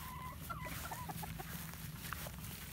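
A Yellow Legged Hatch gamefowl rooster, bowlegged, clucks in a short run of close, repeated soft calls over a steady low background hum, with no talking.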